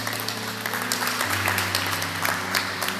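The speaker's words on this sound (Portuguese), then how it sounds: "E aplaudisse ao nosso pastor presidente," Church congregation standing and clapping for their senior pastor, a dense sustained wave of applause with scattered crowd noise over a low steady organ-like drone.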